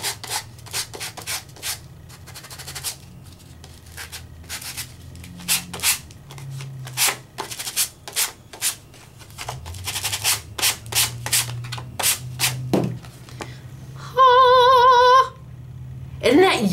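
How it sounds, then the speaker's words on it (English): A sanding gadget rubs across embossed paper in quick repeated strokes, close and crisp with short gaps between bursts, and a brief tonal beep-like sound near the end. "my sand it gadget is going to take off"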